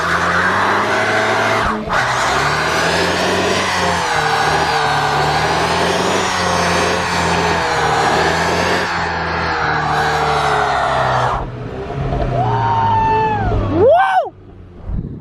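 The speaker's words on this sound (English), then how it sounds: "Boy, that was an amazing burnout." A street race car does a third-gear burnout, its engine roaring loud and steady at high revs for about eleven seconds with tire squeal, then dropping off into brief squealing pitch sweeps near the end.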